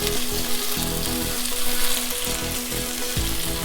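Steady, dense sizzling of chopped onions frying in a hot pan, with occasional stirring scrapes; no voices.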